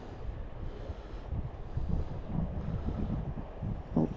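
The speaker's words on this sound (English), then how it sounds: "The line is singing. It's that wind in it because it's pulled tight." Wind blows steadily across a taut fishing line out on the water during a rod test, a close, continuous low rumbling buffet with no voices.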